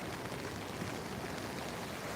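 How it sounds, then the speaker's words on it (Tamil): Rain falls on an overcast day, a faint, even hiss of steady drops with no pauses and no voices. "தெரியுதா உங்களுக்கு மழை பெய்கிறது"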